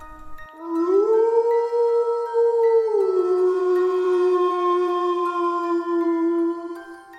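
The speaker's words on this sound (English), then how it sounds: "from the hills where the estate workers lived, overlooking the estate, came a long, haunting howl" A long, haunting howl of a wolf or dog rolls in from distant hills above an estate, one sustained, wavering call that swells and slowly falls over about six seconds, clear against otherwise silent surroundings.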